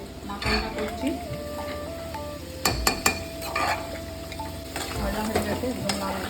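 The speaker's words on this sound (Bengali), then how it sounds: "একটাতে আলু ভাজছি, একটাতে মাটনটা করছি" Potatoes frying in one pan and mutton cooking in another for Kolkata-style mutton biryani, a steady sizzle with stirring scrapes and occasional clinks of utensils against pots, no talk.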